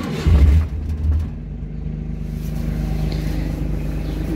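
A Daewoo Damas microvan engine, mounted under the seat, cranks and catches, then settles into a low, steady idle rumble close by.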